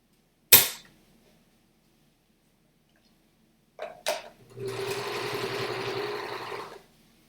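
A sewing machine stitches across the bottom of a fabric bag, running in one steady mechanical whir for about two seconds after a sharp click and a couple of brief bumps.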